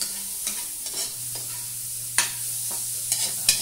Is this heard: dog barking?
no